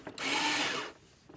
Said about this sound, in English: We'll put the screws to it,